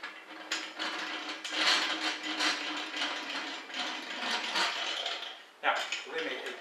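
A Vivo STUFR-V003 3-liter sausage stuffer being cranked with no sausage meat loaded, giving a steady run of close, scratchy mechanical ratcheting and grinding with short pauses and a sharp restart near the end.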